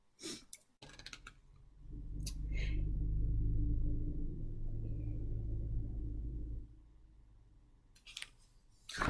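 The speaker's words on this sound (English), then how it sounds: "I'm tired of cars driving by when I'm trying to record that are loud" A car passes outside, a low rumble that swells over a couple of seconds, holds steady, then fades away, with soft clicks and rustles from nearby before and after it.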